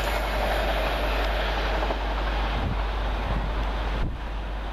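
Class 185 and Class 150 trains passing near East Didsbury on the Liverpool Lime Street to Manchester Airport line, a steady broad rumbling rush with heavy wind buffeting on the microphone.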